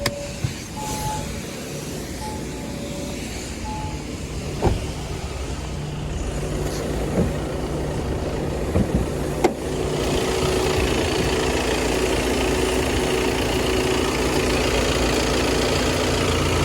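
A diesel engine of an Audi A4 B9 2.0 TDI with 140,000 km, fully warmed up, idles steadily at low volume, a smooth even rumble with a few small clicks and knocks, no talking.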